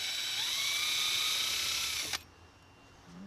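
A drill pre-drills holes for a fence bracket, whining steadily and close by with its pitch rising as it spins up, then stopping abruptly with a click. A faint rattle follows.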